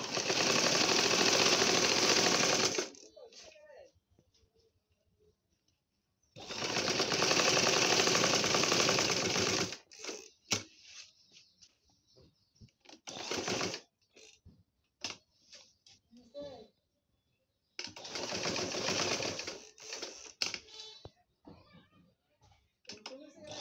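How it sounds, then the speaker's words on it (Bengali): A sewing machine stitches around the neckline of a round baby frock in three loud, steady bursts, each several seconds long, separated by quieter stretches of handling and fabric rustle. "গলাটা এখন আমি এভাবে চাপ সেলাই দিয়ে নিব।"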